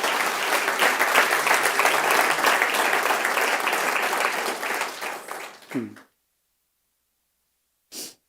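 A church congregation applauds loudly and steadily for several seconds before the clapping fades out, followed by silence and a brief, faint breathy noise.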